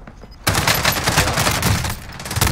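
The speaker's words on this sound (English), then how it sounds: "I'm under fire!" Sudden burst of rapid gunfire in the video game Warzone, loud and close, a dense run of shots that eases briefly before firing picks up again.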